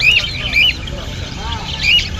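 Two birds give short, high chirping calls in a few separate bursts, close and fairly clear over a low background rumble.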